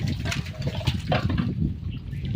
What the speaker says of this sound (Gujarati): આખી ભરજે પાણી